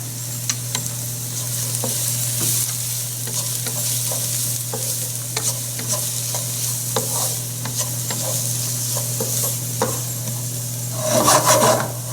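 Vegetables sizzle steadily in a pan while being stirred, close-up scraping and rubbing strokes repeating over a constant frying hiss, with a louder burst of sizzling toward the end; no one speaks.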